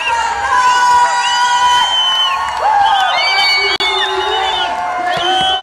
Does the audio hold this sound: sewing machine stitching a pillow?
no